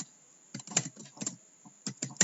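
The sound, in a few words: typing code on a computer keyboard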